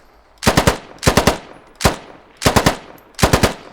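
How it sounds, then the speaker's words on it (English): Rifle gunfire in the video game Squad, five loud bursts at a steady pace, most of them three rapid shots, each burst followed by a short echoing tail, close and with no talk. "You fire once, it shoots 3 times"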